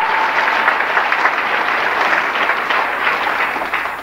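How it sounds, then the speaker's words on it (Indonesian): Church congregation clapping in praise during an Indonesian sermon, a thick, continuous roar of applause filling the room at steady volume from start to finish. "Tepuk tangan bagi Allah kita."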